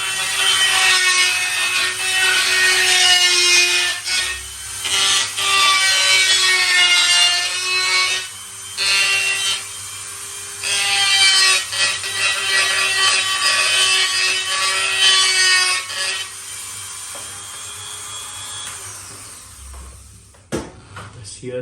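Tungsten carbide conical bit grinding a shofar mouthpiece, a loud steady rasping whine in sustained passes with brief pauses, ending with a couple of knocks.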